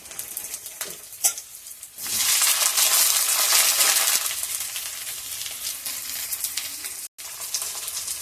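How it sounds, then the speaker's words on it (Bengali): Tomato tipped into potatoes already frying in hot oil sets off a sudden loud sizzle that holds steady and close, then eases into a softer continuous fry, with a faint clink beforehand and a brief dropout near the end. "আলুটা আমার ভাজা হয়ে গেছে। এবার আমি দিয়ে দেবো টমেটোটা।"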